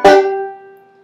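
A single bright banjo pluck opens a Reno-style phrase, struck close and loud, then rings and fades over about a second with no voice.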